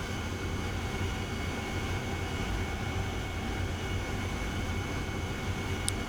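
An AV-8B Harrier jet engine in the DCS flight simulator roars at takeoff power as a loud, steady, broadband rush with a constant whine, unbroken throughout.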